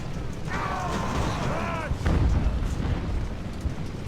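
A deep cannon boom rumbles out about halfway through, heavy and low, following a brief rising mechanical whine amid constant battlefield noise in the video game Ultimate Admiral: Age of Sail, Battle of Bunker Hill.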